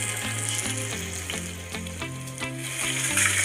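Salt, chili, turmeric and coriander powders sizzle steadily in a hot pan, a close, continuous frying hiss with a few soft stirring scrapes and no voices.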